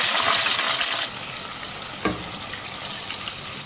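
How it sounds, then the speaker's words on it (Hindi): Green chillies frying in hot oil for a highway-style chicken karahi, giving a steady broadband sizzle that eases slightly after the first second, with a brief stir or clatter around two seconds. "अब इसी तेल में ये मिर्चें फ्राई करेंगे। बस 2-3 मिनट फ्राई करेंगे मिर्चों को।"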